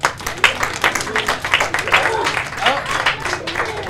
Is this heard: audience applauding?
yes